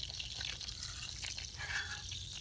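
Clarified butter (ghee) bubbling in a pan after the heat is switched off, a faint, continuous soft crackle and fizz with tiny pops throughout, no talking.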